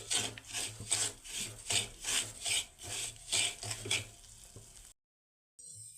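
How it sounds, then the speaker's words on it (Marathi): Ground mung dal being roasted in ghee for halwa, stirred with rhythmic scraping strokes, about a dozen rasping passes with a faint sizzle, close and clear, ending in silence. "आता ही डाळ छान अशी तुपामध्ये आपल्याला भाजून घ्यायची आहे"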